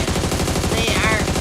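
Rapid automatic gunfire in the mobile battle royale game PUBG Mobile during a competitive match, a dense steady burst of shots lasting the whole moment with no pause.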